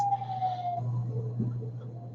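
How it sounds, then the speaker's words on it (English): A distant siren in New York City wails with a slowly falling tone, faint and steady over low room hum and city rumble. "There's a siren, of course."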